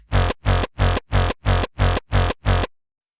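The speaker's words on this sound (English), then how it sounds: "to make the distorted tail sound like this" Seven rapid, evenly spaced bursts of a harsh distorted hardcore kick tail, volume-automated so each pulses on and off in a steady rhythm before stopping into silence.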